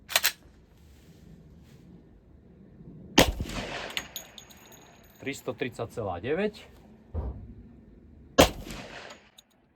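A pistol fires reloaded 10mm Auto rounds at a range, three loud, sharp close shots spaced several seconds apart. A voice speaks between the shots.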